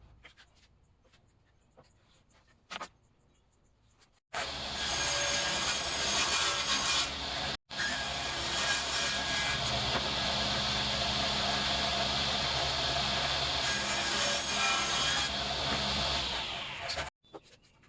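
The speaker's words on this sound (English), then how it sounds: "I'm setting up my grandpa's track saw here." A grandpa's old track saw cutting down a cedar and epoxy tabletop roars loud and close for about twelve seconds with one brief pause, after quiet setup clicks.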